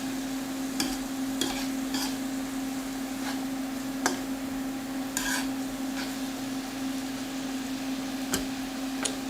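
Vegetables sauté quietly in a pan with a soft continuous sizzle, occasional light clicks and taps of a utensil, and a steady low hum in the background.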